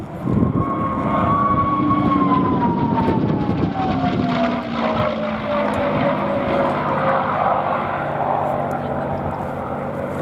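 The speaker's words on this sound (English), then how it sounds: "This is the P-51D, the most recognised Mustang, the most produced as well." A Rolls-Royce-engined P-51D Mustang roars past in a flying display at an air festival, its piston engine droning loudly with a falling pitch as it passes, while people talk nearby.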